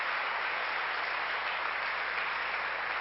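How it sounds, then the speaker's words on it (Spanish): Applause from a church congregation during a Sunday worship service, a steady, even wash of clapping that holds at moderate volume for the whole stretch with no voices above it. "Ese aplauso fuerte al Señor"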